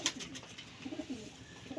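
Soft, low cooing of a paired male and female pigeon, a few murmuring calls close by over faint background noise.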